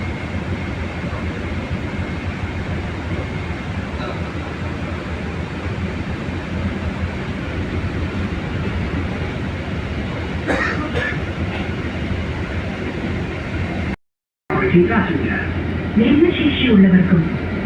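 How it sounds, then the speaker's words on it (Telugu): A train passing on a railway track beside a road, a steady rolling rumble with rattling that fills most of the stretch, then a brief cut, and light outdoor noise afterward. "ట్రైన్ వెళ్ళే రైల్వే ట్రాక్ ఉంది ఇప్పుడే ఒక ట్రైన్ వెళ్ళింది"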